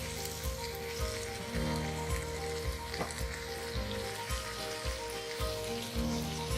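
Ivy gourd (tindora) with chopped boiled potatoes fries in a pan, giving a steady close sizzle with faint spatter and a few soft stirring knocks, and no talking.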